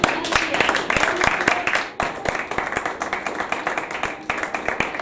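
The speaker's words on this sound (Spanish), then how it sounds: "Vamos a dar un aplauso al Señor Jesús." Congregation clapping at a church gathering, a close, crisp burst of many hands with sharp individual claps, briefly dipping before picking up again. Voices can be heard among the clapping.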